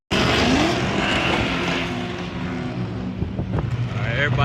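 Several cars pull away from a busy car meet, a loud continuous engine roar with rising revs and a few tire chirps near the end, heard alone without talk.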